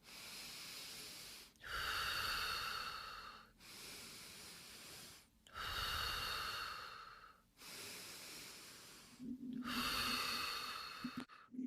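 Slow, deliberate breathing exercise demonstration, in through the nose and out through the mouth, with three long hissing breath cycles separated by brief pauses, close and quiet with no talking.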